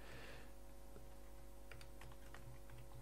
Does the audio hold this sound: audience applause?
no